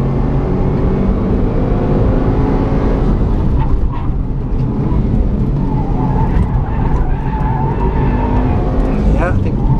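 A car engine pulls hard in second gear, a loud continuous roar with brief tire squeals, a voice talking over it.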